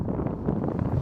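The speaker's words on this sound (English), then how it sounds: "It's quite windy." Gusty wind buffets a microphone beside a lake on a mountain trek walk, a low rumbling roar that swells and dips for a moment with no voices.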